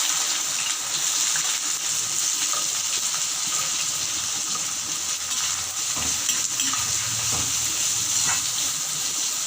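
Onions sautéing in a pan with clove, cinnamon and cardamom give a steady, fairly loud sizzle with soft stirring scrapes throughout, and no talking.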